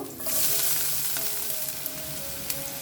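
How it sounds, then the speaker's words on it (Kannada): Chopped garlic and ginger fry in smoking-hot oil on a high flame, giving a loud, steady sizzle with occasional sharp pops and crackles, with no talking. "ಇದನ್ನು ಹೈ ಫ್ಲೇಮಲ್ಲಿನೇ ಈ ಥರ ಹುರ್ಕೋಬೇಕು"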